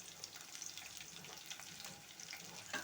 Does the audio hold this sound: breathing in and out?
no